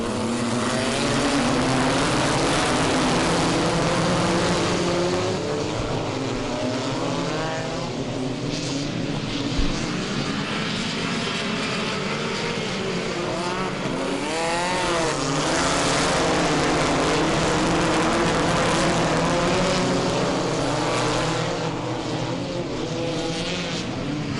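A pack of race cars takes the green flag at a New England race start, engines roaring loud and continuous, with rising and falling whines as cars pass.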